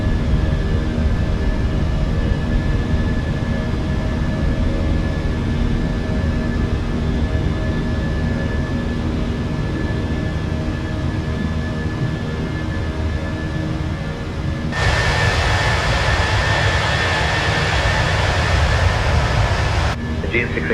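Airbus A320 jet engines at takeoff thrust and climb in a flight simulator game, a loud steady roar with a tonal whine, a brighter hiss layered in partway through, and radio-style speech over it.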